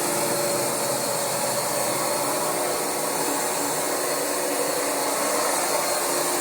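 A carpet cleaning extractor machine runs at full power, giving off a loud, steady high-pitched whine and airy rush that holds constant from start to finish with no pauses.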